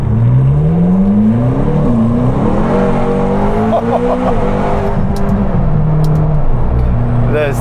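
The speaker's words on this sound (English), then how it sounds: "These turbos come in with a vengeance." A McLaren 707hp grand tourer's twin-turbo engine accelerates hard, a loud rising roar that climbs in pitch through the gears from close inside the car, with a voice speaking over it.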